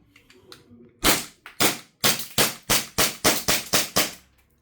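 An EC-1301 airsoft pistol fires about ten sharp, close shots in a quick, fairly even rhythm after a few soft clicks and handling noises.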